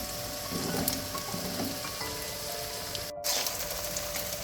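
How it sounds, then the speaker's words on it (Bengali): Chopped onions and potatoes hit hot oil in a pan of frying mutton (goat meat) curry, giving a steady, close crackling sizzle with a brief drop near the end, no voices. "তার মধ্যে আমি পেঁয়াজ আর আলু কেটে রেখেছিলাম দিয়ে দিচ্ছি।"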